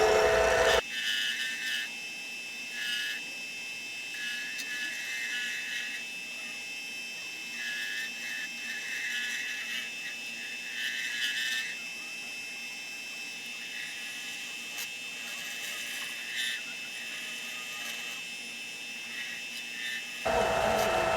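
A lathe turns Tru-Stone against an Easy Wood Tools cutter, approaching the bushings. A steady, close whine and hiss of cutting runs for about twenty seconds, with slight surges, then stops abruptly.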